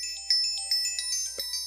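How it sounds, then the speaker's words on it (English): A mobile phone rings with a bright, repeating electronic melody of short tonal notes, moderately faint in an indoor room with no talking. "And my phone's ringing while I'm videoing."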